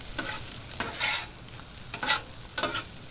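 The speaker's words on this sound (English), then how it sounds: "So we just want to incorporate that rice into our veggies. Spread it around." A spatula stirs cooked rice into vegetables on a 22-inch Blackstone griddle for pork fried rice, four scraping strokes at a steady rhythm over a soft background sizzle, close and fairly quiet.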